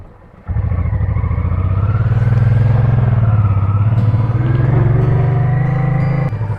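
Honda VT 500C Shadow motorcycle running on a road trip, its V-twin engine starting up abruptly and holding a loud, steady, close throaty drone with slight shifts in pitch, no talk.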